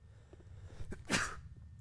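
A single sharp human sneeze bursts out, preceded by a quick breath in, against a quiet background.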